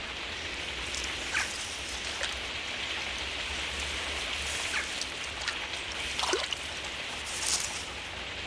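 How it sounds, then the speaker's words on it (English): Steady rain falls at a fishing lake, a continuous broadband hiss with occasional louder drop splashes and patters close by, no voices present. "even rain doesn't stop Chris proving that it's easier catching small fish than big fish"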